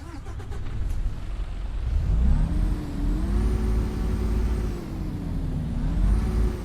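A Detroit Diesel engine in a Peterbilt 357 heavy-haul truck in American Truck Simulator drones loud and steady, its revs climbing, dipping and swelling again throughout with no talking.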